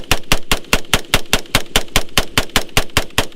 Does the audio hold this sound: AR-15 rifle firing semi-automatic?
yes